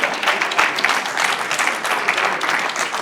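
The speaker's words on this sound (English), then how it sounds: "Clap for yourselves." A large conference audience bursts into sustained, dense applause at the close of a national conference and anniversary celebration, many hands clapping together at a steady, full level throughout.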